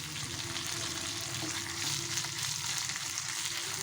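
Drumstick leaves sautéing in a little oil in a pan, a continuous even hiss of frying, quiet and steady with no stirring accents or voices.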